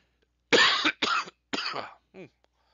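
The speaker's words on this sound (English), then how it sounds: "I got a coughing fit coming on." A run of four harsh coughs, close and fairly loud, the first three strong and the last one weaker, with brief silences between them.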